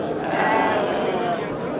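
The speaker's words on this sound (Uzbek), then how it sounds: "Yaxshi qo'ylari bor ekan mana ukamizda ikkita" Sheep bleating at a livestock market in Kokand, a drawn-out wavering bleat standing out over busy crowd noise, with people talking nearby.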